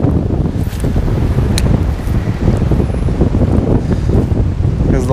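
Strong wind gusting against the microphone beside a river bank while fishing, a steady loud rumbling buffet that fills the whole stretch with no voices.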